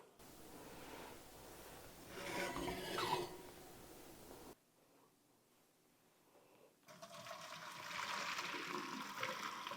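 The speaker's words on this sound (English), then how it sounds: "we're going to drain the pasta." Boiled pasta drained from the pot into a strainer in a kitchen, a rushing, splashing pour of water that fades to quiet, then cold tap water runs steadily over the pasta.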